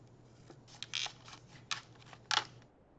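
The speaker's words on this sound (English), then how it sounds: "I'm going to cut on this crease." Scissors cutting water rocket fin material along a crease: a quiet series of crisp snipping crunches in uneven clusters, close up and alone over a faint steady hum.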